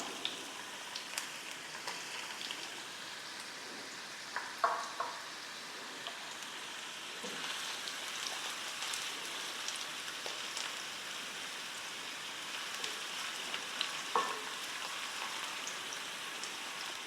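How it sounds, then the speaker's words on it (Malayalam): Chopped ginger frying in hot oil for a Kerala-style puli inji, a steady close crackling sizzle with scattered pops that continues evenly throughout, no talk. "നമുക്ക് അരിഞ്ഞ് വെച്ച ഇഞ്ചി ഇട്ട് കൊടുക്കാം. ഇഞ്ചി ഒന്ന് വറുത്ത് കോരണം"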